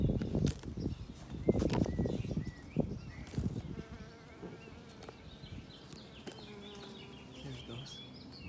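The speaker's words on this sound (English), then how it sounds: "I think we have a couple of bees in action that are kind of flying around." Bees flying around blooming citrus flowers, a faint buzzing drone heard close amid rustling and handling noise, with occasional bird chirps in the background.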